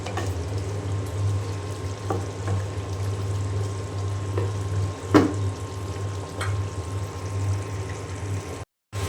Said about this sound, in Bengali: আমি এখন পরিমাণ মতো পানি দিয়ে দেব